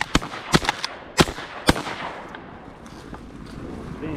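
Several sharp shotgun blasts during a duck hunt outdoors, four or five loud cracks spaced unevenly over under two seconds, each with a quick decaying tail, followed by quieter ambient outdoor noise without talk.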